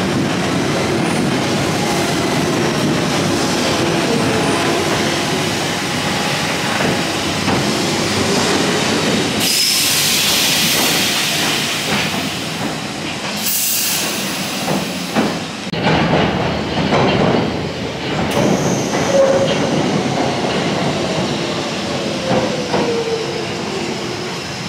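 A London Underground Waterloo & City Line train running, a loud continuous rumble of wheels on rails with squeals and clatter rising and shifting throughout, no voices.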